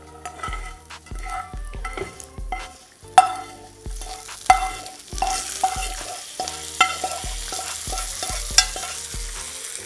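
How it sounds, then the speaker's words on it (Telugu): Tempering is tipped into a pan and stirred through the mixture, with a steady sizzle of frying under repeated scraping and clinking of a spoon against the pan, close by. "ఈ పోప్ను మనం దీంట్లో వేసేసుకుంటున్నాం."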